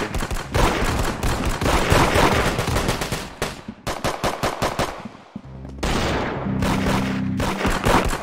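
Rapid bursts of automatic gunfire crackle loudly in a Roblox Arsenal match, with dense repeated shots, a short lull, then more volleys and single cracks.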